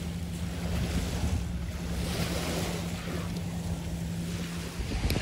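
Ocean waves wash continuously onto a beach at a campsite, a steady broadband roar with wind buffeting the microphone throughout.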